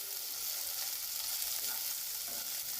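Capsicum and onion sauté in a pan with a dense, even hiss of frying and faint stirring scrapes underneath, steady and close throughout with no talking.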